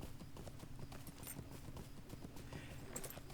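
A horse's hooves clip-clopping steadily across the northern Bree horse fields in the game Lord of the Rings Online, a quick, even trot heard alone and faint.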